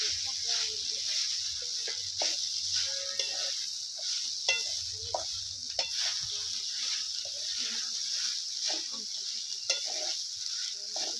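Poha coated with turmeric and salt being stir-fried in a pan, a constant soft sizzle with repeated scraping stirs, close but quiet, a voice talking faintly underneath.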